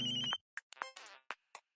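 A mobile phone plays its melodic electronic ringtone, a short run of bright tonal notes and chimes that rings clearly and alone in a quiet room.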